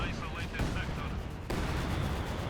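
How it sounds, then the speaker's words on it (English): Artillery fire in a World War II strategy game, rumbling booms and crackling gunfire layered into a dense, continuous barrage with a louder burst midway, under a voice talking. "Now bringing artillery to push back both packs, getting great hits on both of them."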